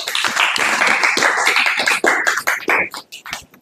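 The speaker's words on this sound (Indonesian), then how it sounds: "Kita beri tepuk tangan ya." An audience at a history discussion applauds, dense clapping for a few seconds that thins out and tapers off toward the end.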